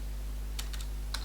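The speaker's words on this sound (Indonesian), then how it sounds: "mengetik" A computer keyboard clicks in a few short, crisp bursts of keystrokes over a steady low electrical hum.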